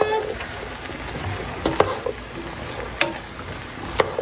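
Sausage, turkey, zucchini and squash stirred in a pot for one-pot chili mac, giving soft scraping and a few sharp utensil knocks against the pot over a low sizzle, with no talk.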